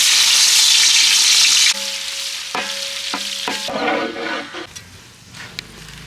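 Thinly sliced onions dropped into hot oil for egg biryani, a loud dense sizzle at first that settles into quieter frying with stirring clatter and a few clinks, close up and without talk.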